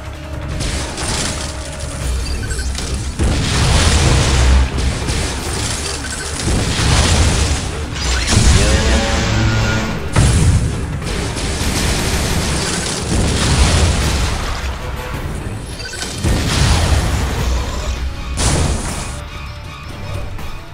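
Missiles fired during a battle in the Metroid Other M video game set off a string of loud, booming explosions and crashing impacts, dense and continuous with mechanical whirs between the blasts.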